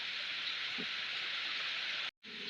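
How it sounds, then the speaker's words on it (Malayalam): Steady, dense monsoon-style rain hisses continuously, close and loud, with a brief dropout near the end. "നല്ല മഴ പെയ്യുന്നുണ്ടേ"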